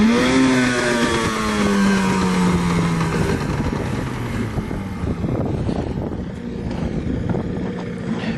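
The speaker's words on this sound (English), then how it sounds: "Going to get the engine going?" A sailing boat's engine on an Atlantic crossing starts up and runs, a loud mechanical drone that drops in pitch as it settles, mixed with wind buffeting the microphone.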